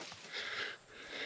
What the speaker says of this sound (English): As you can tell by the heavy breathing.